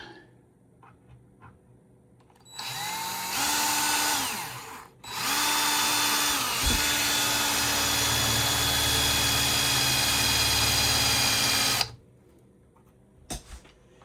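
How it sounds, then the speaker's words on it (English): A power drill whirs loudly in two bursts, a brief spin-up then a long steady grinding run, with a low rumble as the bit bites in. "I'm going to try to see if I can drill this hole out right here"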